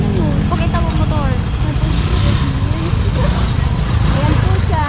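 A motorcycle engine runs steadily close by, a continuous loud rumble with no pauses, and voices can be heard faintly under it.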